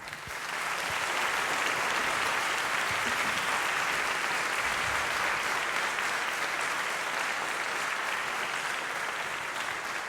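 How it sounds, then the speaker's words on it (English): A large audience applauds the EUCYS 2014 orchestra at an awards ceremony, a dense, steady wash of clapping that stays loud and even for about ten seconds with no voices over it. "Let's give them a round of applause."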